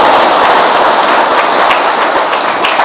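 A dense, steady burst of audience applause at a Buddhist dharma talk, loud and continuous for about three seconds with no voices over it.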